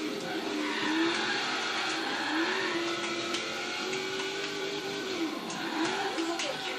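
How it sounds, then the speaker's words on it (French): Car drifting in the racing video game Forza Horizon 3, with a steady engine drone and wavering tire squeal running throughout, moderately loud over a busy game mix. "Ça, c'est du drift, ça."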